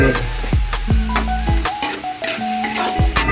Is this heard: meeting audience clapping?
no